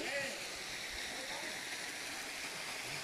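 Small waterfall tumbling over mossy stones in a damp stream gorge, a steady broadband rush of falling water filling the whole stretch, with faint voices of hikers nearby.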